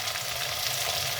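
Potato cubes fry in a pan with a brief, steady crackling sizzle, close and fairly soft.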